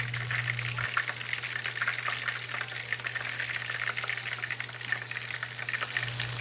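Small chicken tenders frying in hot oil, a continuous soft crackling sizzle heard close and steady with a low hum underneath, no talking.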